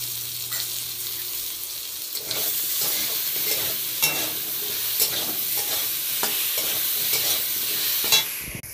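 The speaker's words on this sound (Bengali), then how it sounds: "আলুটা ভেজে নেব, লবণ দিয়ে দিচ্ছি।" Potatoes sizzle steadily in a pan with salt, a dense hissing fry close by, punctuated by repeated scraping stirs and small knocks against the pan.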